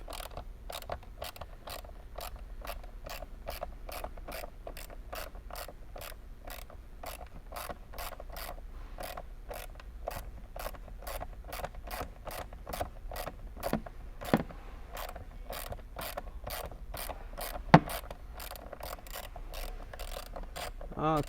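An 8 mm socket wrench ratchets off the door panel bolts of a 2008 Ferrari 599, giving a long steady run of quick, evenly spaced clicks close by, fairly quiet with faint background noise.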